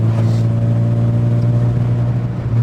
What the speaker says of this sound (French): La beauté, toi, le véhicule, quand t'accélères là comme ça